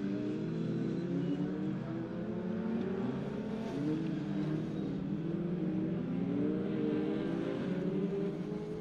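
Pickup trucks race around the hairpin at the Pembrey circuit, a loud, continuous roar of several engines revving and shifting, with the pitch rising and falling as the pack passes close by.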